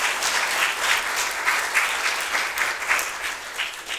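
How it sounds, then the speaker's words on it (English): A congregation at Waterfront Community Church in Swansea gives a warm, continuous round of clapping during a December service, many hands beating in a dense, steady texture at close range, with no speech. "should we give James another round of applause?"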